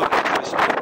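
Strong wind gusting down a gorge toward the sea at Lazarevskoye, a steady loud roar buffeting the microphone in broad surging waves for under a second.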